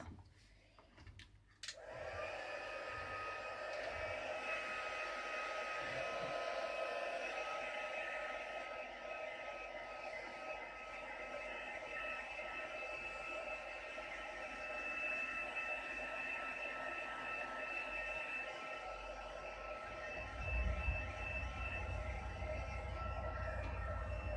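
A hair dryer blows steadily on stamped ink on a handmade craft card, a continuous close whirring hum with a brief start-up at the beginning and a deeper rumble toward the end.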